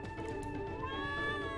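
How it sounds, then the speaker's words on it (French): Cat meowing in the video game Trials of Mana, a steady drawn-out meow with sustained tonal harmonics over a busy game soundscape, heard alone without talk. "tu caresses le chat"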